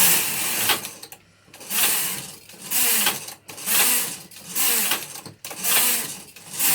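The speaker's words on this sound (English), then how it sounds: "Place it over the needles and run the carriage across." A Silver 840 knitting machine with its carriage pushed across the needles, giving a rhythmic series of whirring, clattering passes that fade between strokes, close and loud with no talking.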